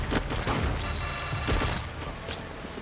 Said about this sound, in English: SMG kill.